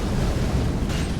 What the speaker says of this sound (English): he decides to ram it into the ground and then a big old explosion happens